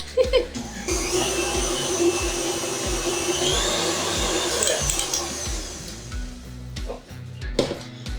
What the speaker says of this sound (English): our masa's in the bowl and we're gonna start mixing on medium to medium high